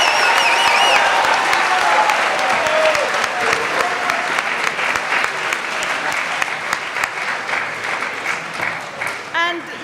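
A school assembly applauds head student election candidates, with a broad sustained wash of many hands clapping that slowly thins out, a few voices and a whoop rising over it near the end.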